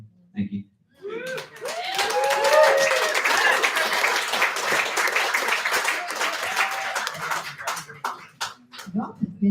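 An audience at a poetry reading breaks into sustained applause mixed with cheers and whoops, rising quickly and staying loud before trailing off into scattered claps.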